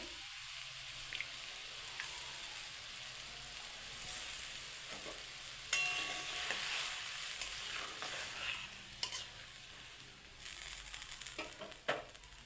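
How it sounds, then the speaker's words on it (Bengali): A fish curry broth for boal fish boils and sizzles in a pan, a steady close frying hiss with occasional sharper crackles and clinks of stirring throughout. "আমার ঝোলটা ফুটুক। আমার ঝোলটা ফুটে গিয়েছে।"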